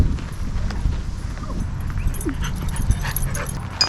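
Dogs roam off-leash at a dog park in Colorado Springs, with faint whimpers and yips surfacing over a steady bed of outdoor ambient noise and scattered light taps, continuous for a few seconds.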